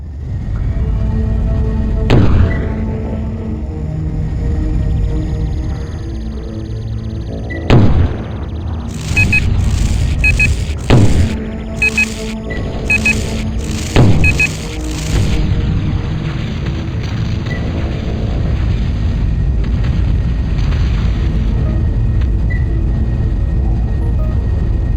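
Explosions around a tower in the PC game Battlezone 98 Redux: several sharp booms over a constant low engine rumble, with bursts of high electronic tones between them.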